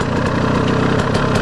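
KTM 200 XC-W two-stroke dirt bike engine running steadily in an empty parking lot during warm-up, a continuous close, loud idle-like drone with a low throbbing pulse and no talk.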